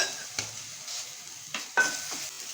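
Ginger-garlic paste sautéing with carrots in a pan for a potato frankie filling, a soft sizzle broken by a few sharp scrapes and taps of a spatula, close by.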